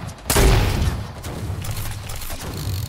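Egg launchers firing in a video game: a loud booming launch at the start, then a continued rumble of repeated shots and impacts.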